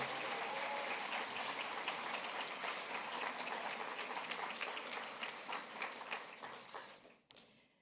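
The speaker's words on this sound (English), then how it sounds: "Let's give them all a final round of applause." Guests at an annual Martin Luther King Jr. awards dinner applaud the award recipients, a loud, full round of clapping that thins and fades toward the end before a final sharp tap.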